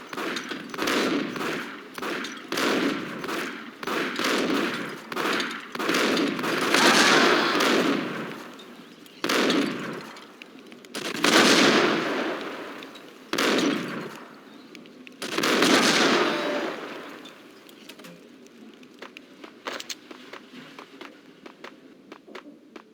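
Gunfire in the video game Max Payne comes in repeated bursts of rapid shots, some sharp and single, others rattling and sustained, with short gaps between volleys.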